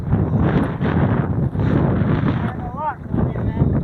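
Gale-force wind buffets a microphone outdoors by kayaking water, a loud continuous rumbling roar with gusting surges throughout.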